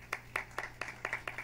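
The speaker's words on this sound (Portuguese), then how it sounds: "Uma salva de palmas" Audience clapping at a Brazilian summer cultural event, six sharp, evenly spaced claps close by, alone without speech.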